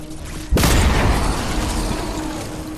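A single heavy, booming shot from the Third Rail sniper rifle in Fortnite Save the World, a sudden loud blast followed by a sustained rumbling tail that slowly fades.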